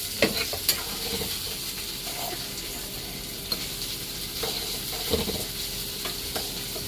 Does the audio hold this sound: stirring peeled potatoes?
yes